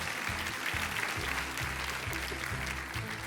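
An audience applauds a departing TV show judge on a French talent-competition stage, steady clapping filling the clip under music with a repeating low beat.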